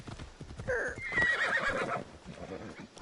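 A horse whinnies and its hooves clip-clop in the Assassin's Creed video game, a neigh followed by steady hoofbeats at moderate volume.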